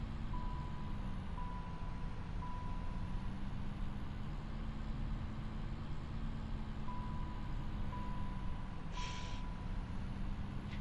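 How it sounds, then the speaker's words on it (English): A Ford truck in a farming video game sounds a thin, steady warning ding in evenly spaced tones over a loud constant engine rumble and hiss, with no talking. "if this truck does not stop dinging, I might launch it into the river."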